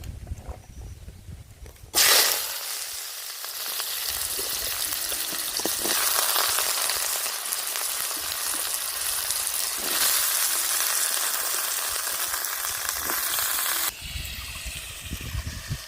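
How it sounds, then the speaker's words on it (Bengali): Fish frying in mustard oil in a hot wok, a loud, dense, close sizzle that starts abruptly and crackles steadily for about twelve seconds before dropping away, with no talking. "মাছগুলো ভেজে নেব"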